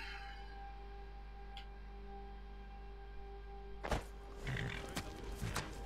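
A horse whinnies in the video game Skyrim, a faint call at the start over a steady background hum, followed by louder game clatter and shuffling near the end.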